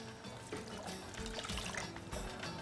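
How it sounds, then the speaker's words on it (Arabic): Hot boiled water poured into a bowl while preparing dough for fried cheese pastries, a steady trickling pour running continuously for a couple of seconds, fairly close. "هجيب كده الميه السخنه المغليه"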